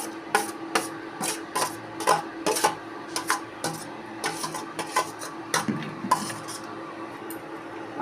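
Spices and vegetables being stirred in a pot for a home-style chicken curry with potatoes, heard as irregular close scrapes and clinks of a spoon against the metal pot, with a faint hum underneath and no talking.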